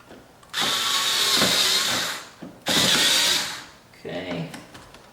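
A power tool drives a screw into a C8 Corvette Stingray's Z06-style composite canard in two loud, sustained bursts, each trailing off, then a shorter, quieter third burst, all close and alone.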